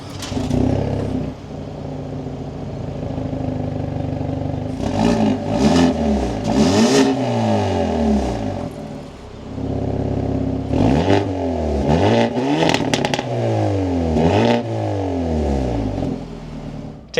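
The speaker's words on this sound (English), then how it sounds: "keeping my foot on the brake, we can fire it up." A 2026 Hyundai Elantra N engine starting up and then revved repeatedly, loud close blips rising and falling over a steady idle, with no talk.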